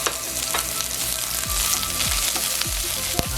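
Garlic and onion sizzle steadily while sautéing in a pan, a dense, close crackle of hot oil with occasional stirring scrapes and soft clunks, no voices.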